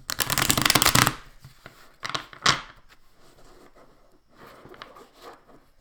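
Tarot cards being shuffled for a Virgo reading: a loud, dense riffling burst at the start, then a few shorter, quieter shuffling bursts with pauses, close to the microphone and without talk.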